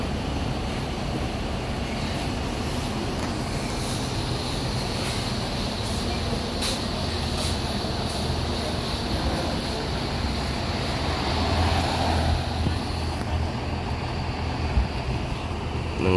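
A Handoyo intercity bus with a Hino engine cruises along, giving a steady broad engine and road rumble with a constant drone and no break for the whole stretch.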